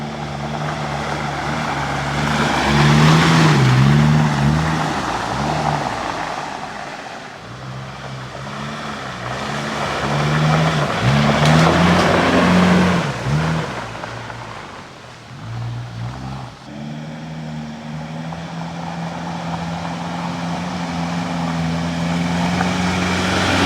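A four-wheel-drive car in four-wheel drive works along a muddy, slippery, narrow dirt track, its engine droning steadily with surging revs and rising and falling strain, close and continuous throughout.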